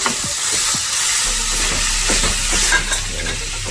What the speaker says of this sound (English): So then it's time to cook the ground beef.